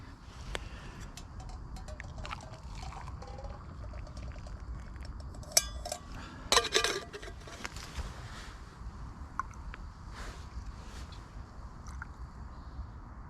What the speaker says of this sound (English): So we'll take that off and pour the tea.